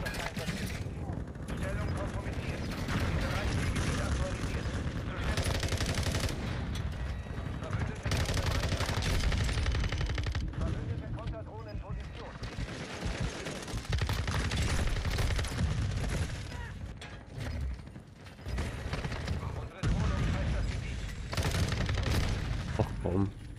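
Rapid gunfire rattles through a Call of Duty Shipment match, dense bursts of automatic shots and booms running almost nonstop, with brief lulls between volleys.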